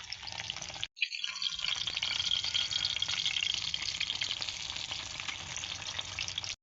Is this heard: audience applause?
no